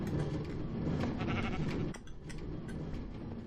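A sheep bleats in the video game Minecraft, a short wavering bleat that is fairly quiet over a steady background hum.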